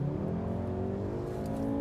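A 2015 Volkswagen Golf R's turbocharged engine pulls hard under acceleration, a steady rising drone heard from close by without any talking.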